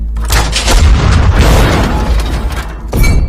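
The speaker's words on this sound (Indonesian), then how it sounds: "Kapten Simeon pun memerintahkan Sitop untuk segera menembaknya untuk memancing agar mereka keluar." A tank cannon fires in a battle against German tanks, a loud close boom with a rumbling tail, followed by a second blast about three seconds later.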